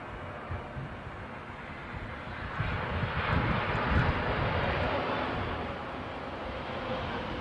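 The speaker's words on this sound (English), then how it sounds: "United Airlines in Star Alliance livery, inbound from Houston" A United Airlines airliner in Star Alliance livery landing inbound from Houston, a broad, steady jet roar that swells toward the middle and holds at a distance.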